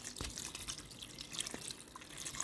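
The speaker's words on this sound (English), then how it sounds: "So now I will add a little water before" Water is added to a cooking pot for Indomie noodles, making a steady, close splashing trickle with a few scattered drips.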